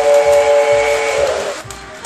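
A toy train sounds a loud, steady whistle tone over a soft rhythmic chugging clatter, the whistle fading after about a second and a half.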